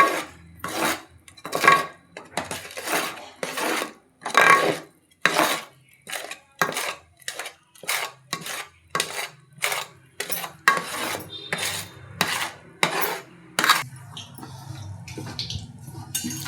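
A spoon works a Mysore pak mixture of melted sugar and flour in a metal pan, making regular scraping strokes about one or two per second, close and fairly loud, keeping a steady rhythm.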